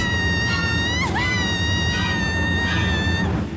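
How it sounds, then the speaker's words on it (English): A sustained high-pitched scream in the video game Persona 4: Dancing All Night, loud and wavering with a sharp dip partway through, ringing under a constant background of game noise. "Was that a scream? It was from the studio."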